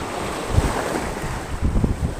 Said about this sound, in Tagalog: malakas yung alon guys, ano, kumpara nung last week.